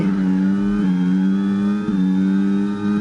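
Racing cars in a Formula 1 video game scream along at the Austrian Grand Prix during a DRS overtake, a loud sustained engine tone with two brief gear-shift dips, close and without talk.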